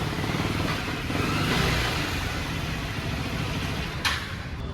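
A motorcycle engine, a Duke 250, runs steadily at a mechanic's shop with a low, continuous drone, close and moderately loud, and a short sharp knock near the end.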